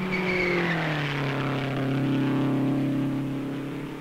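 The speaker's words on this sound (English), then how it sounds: "Brian and Bettenhausen charge down the main straightaway inches apart" Race cars from the 1958 Indianapolis 500 charge down the main straightaway, a loud engine whine that drops in pitch as they pass, then a sustained drone that fades slightly.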